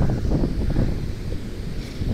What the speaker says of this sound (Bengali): প্রচণ্ড ঢেউ, প্রচণ্ড হাওয়া।